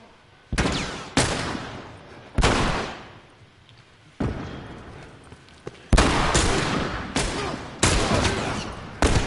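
Gunfire in the video game The Last of Us Remastered: loud, echoing shots ring out singly and in quick pairs, each followed by a long decaying reverberant tail.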